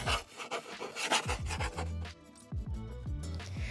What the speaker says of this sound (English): Now I'm moving the canvas lamp from its wooden base to the clamp.